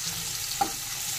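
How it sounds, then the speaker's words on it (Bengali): Chopped onions and green chillies hit hot oil in a pan while cooking a Bengali kajoli fish chochori, giving a soft, steady sizzle with one brief sharp crackle partway through. "তেল গরম হয়ে গেছে, দিয়ে দিচ্ছি পেঁয়াজ আর কাঁচা লঙ্কা কুচি।"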